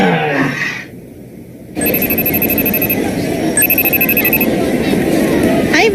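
A telephone rings with repeated bright electronic trills in two bursts, heard over people talking and background bustle in an indoor scene from an Indonesian film.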